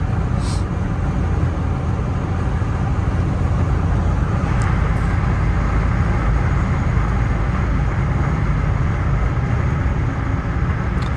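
A 2000 Toyota Corolla cruises at 80 mph, its cabin filled with a steady, loud roar of road and wind noise with a constant low engine drone.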